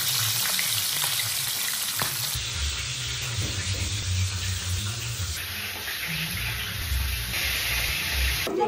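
Fish frying in a pan in a home kitchen, with a steady loud sizzle and crackle throughout and occasional faint background voices.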